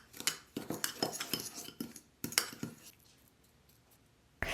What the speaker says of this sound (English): cream together the vegan butter with sugar and vanilla